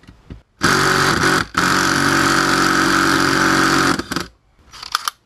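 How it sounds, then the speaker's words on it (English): An impact driver with a 19mm socket hammers at the power steering pulley nut on a Subaru, two loud rattling bursts of about one and two and a half seconds, followed by a few short clicks. "I do have my impact driver, which hopefully will make this a little easier"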